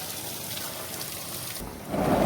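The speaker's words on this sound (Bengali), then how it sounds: "এই যে আমাদের টাঙ্কির পানি ক্লিয়ার করা হচ্ছে।" Water is flushed out of a household water tank during tank and water line servicing for iron buildup, a steady rushing hiss that grows into a louder gush near the end.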